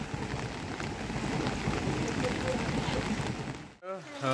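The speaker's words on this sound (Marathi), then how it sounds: "पाऊस काय जावचा नाव घेत नाही" Steady rain falls on a rainy evening in Kankavli, Konkan during the monsoon Ganesh festival, a dense, continuous hiss that holds evenly for almost four seconds before a brief break where a voice begins speaking.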